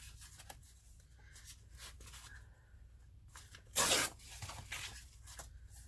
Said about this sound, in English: I'm going to again use my ruler, and I'm just going to trim that down a bit.